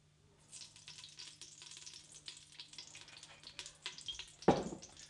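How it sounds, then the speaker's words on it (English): Olive oil poured into a hot thick-bottomed pot, producing a soft crackling sizzle that builds over a few seconds, capped by a brief louder clank, fairly quiet overall. "So the first thing we'll do is add our olive oil."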